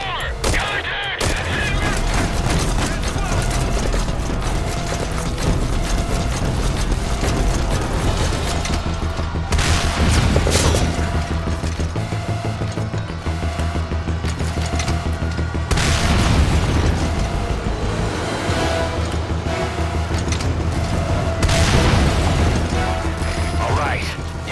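Gunfire and explosions from the video game Metal Gear Solid V: Ground Zeroes as targets are destroyed, with dense mechanical clatter, repeated booms and sustained bursts over a continuous loud game soundscape.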